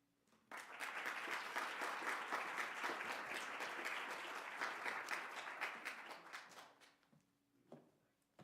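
Sustained audience applause welcoming speaker Holly Trostle to the podium at a library lunchtime talk, a dense steady clatter of many hands that swells quickly, holds for several seconds, then tapers off.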